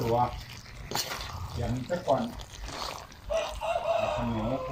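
A chicken crows outdoors at moderate distance during a cooking session, its call mixed with someone talking.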